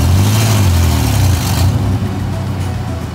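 A six-cylinder pickup truck revs hard while pulling a trailer out of mud on a flooded property, its engine a loud, close, sustained roar that dips slightly partway through.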